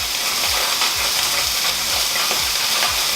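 Food sears and browns in a hot pan with potatoes and a fresh spice mix, giving a steady, close sizzling hiss with faint stirring scrapes and no talk.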